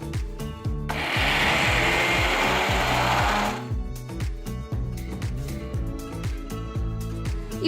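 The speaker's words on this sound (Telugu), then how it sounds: "ఇవి పూర్తిగా చల్లారిన తర్వాత ఒక మిక్సర్ జార్లో వేసి ఒక్కసారి రుబ్బాలి" A kitchen mixer grinder blitzes cooled fried onions in one loud, roaring burst of a few seconds, with steady background music before and after.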